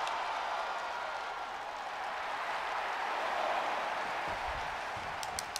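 Crowd noise from a WWE 2K24 wrestling arena after a springboard move, a steady broad roar of cheering with light applause that holds throughout, swelling slightly midway, with a few sharp clicks near the end.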